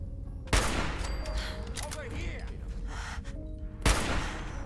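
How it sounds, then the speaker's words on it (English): Two sharp, loud pistol shots a few seconds apart in Fallout 4, with game ambience and faint effects between them. "being able to shoot that pistol that fast"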